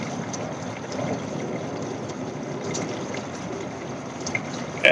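A gallon of water is poured slowly into a car radiator at a roadside repair, giving a steady soft trickling and gurgling flow that continues throughout at a moderate, close level.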